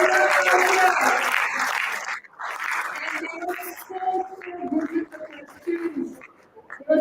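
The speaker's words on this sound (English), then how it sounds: "Can we have you round of applause?" Audience applause at a business summit in Mumbai as jury members are called to the stage. Dense clapping for about two seconds breaks off, then scattered claps and speech-like voices take over.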